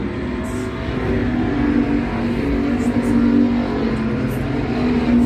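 Dirt track race cars roar around an oval on a Sunday, a constant loud engine drone with rising and falling revs as the pack circles, heard from the stands.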